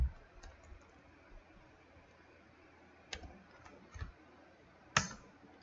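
Keys tapped on a computer keyboard during a lesson in R software, a few sparse clicks scattered over a quiet room, ending in one sharper tap.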